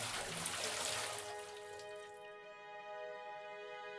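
Water pours steadily into a cup, a close, bright gush that rises into a ringing, filling tone as the level climbs, with no voices over it.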